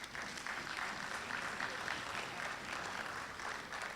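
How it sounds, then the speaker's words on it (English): Audience at a credit union's 50th annual general meeting applauding, an even, continuous round of clapping from a roomful of people, moderately faint and heard alone. "I really want to ask you to recognize them in my own way by giving them a round of applause"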